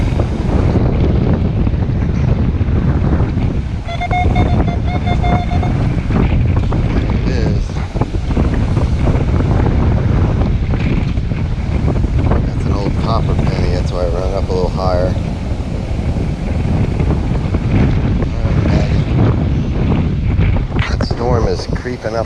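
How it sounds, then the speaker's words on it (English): Strong wind roars steadily across a beach under rolling storm clouds, buffeting the microphone nonstop with loud gusty rumble, while surf washes in the background and a voice speaks briefly. "Back to the wind."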